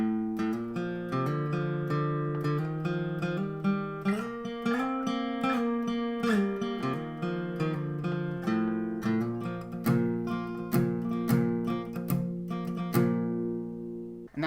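An acoustic guitar plays the intro of a song, with steady strummed chords ringing in a regular rhythm, close and clear with no voices.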